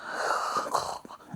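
A person wearing an anti-snore mouth guard gives a short, breathy, rasping snore, close to the microphone and over in about a second.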